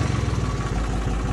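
A Jhota 3630 tractor engine runs at a steady idle, its low diesel chugging throbbing in an even rhythm, close and loud with no voices.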